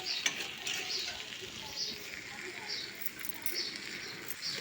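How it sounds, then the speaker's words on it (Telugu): A cabbage, beetroot and potato fry is stirred in a pan, with a steady close sizzle and faint scraping running throughout and no clear talk. "ఇప్పుడు కింద పైద కలుపుదాం."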